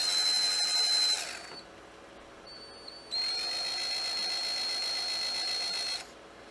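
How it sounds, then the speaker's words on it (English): A power drill whines steadily at close range for about a second, pauses, then runs again in a longer sustained burst before cutting off. "I just got to drill this hole"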